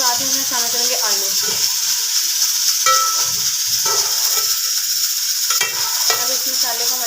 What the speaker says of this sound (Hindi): अब इस मसाले को हम अच्छे तरीके से फ्राई कर लेंगे